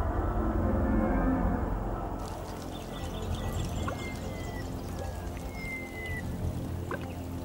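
Floodwater of the swollen Murray River pours and rushes steadily through red gum forest, a broad continuous wash with scattered bird calls above it.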